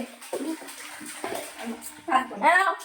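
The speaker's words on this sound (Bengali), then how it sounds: "মাথায় জল দিয়ে স্নান করে দাও" Water is poured and splashed over a small child having a bath, in short splashy bursts near the end, while an adult talks over the sound.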